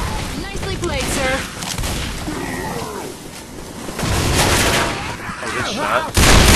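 Gunfire against zombies in the video game Left 4 Dead, with dense bursts of shots and loud impacts running throughout, layered under voices talking over one another.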